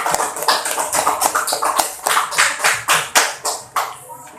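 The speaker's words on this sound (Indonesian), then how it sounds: "Tepuk tangan, tepuk tangan" Hand clapping in a classroom civics lesson, a group clapping in a series of distinct rhythmic bursts, loud and close, with no talking.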